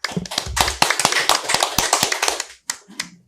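Audience applause closing a session at a Korean academic conference on local autonomy law: a dense burst of many hands clapping close by, fading out with a few scattered final claps.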